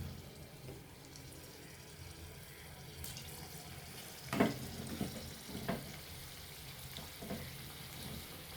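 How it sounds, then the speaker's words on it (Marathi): Veg Manchurian balls frying in hot oil, a faint steady sizzle with a few louder splashy bursts as pieces drop in partway through, quiet and close. "आता आपण मंचुरियन तळू शकतो."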